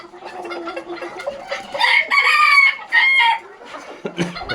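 Domestic chickens cluck steadily while a rooster lets out loud drawn-out crows at close range, with a brief sharp squawk near the end.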